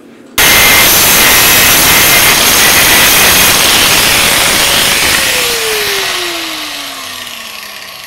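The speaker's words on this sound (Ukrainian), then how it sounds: "Це наш прес, яким ми проводимо пресування касочок наших." A press used to form kevlar helmets lets out a sudden, loud, continuous hiss and roar that holds steady and then slowly fades, with a descending whine toward the end.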